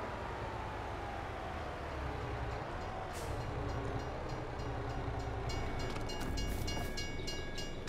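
A train rumbles past in Farming Simulator at a forest map, a continuous loud roll of wheels and carriages with rattling and clanking that grows busier toward the end.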